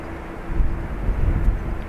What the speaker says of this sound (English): We're just waiting on this Ryanair, you can see there on your screen now, to taxi over to the runway.